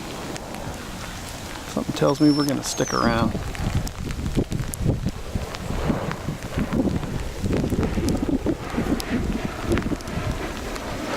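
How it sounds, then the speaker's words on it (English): Heavy rain falling during a fishing trip on the water, a dense steady hiss of drops with wind buffeting the microphone, while someone talks over it early on. "This rain is coming down pretty good"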